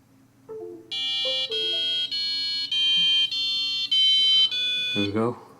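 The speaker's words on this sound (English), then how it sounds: "I'll upload the buzzer code onto it and see how its speaker sounds" A small piezo buzzer on an Arduino kit plays a sequence of shrill electronic beeps at changing pitches, about seven tones in a row, then a short voice.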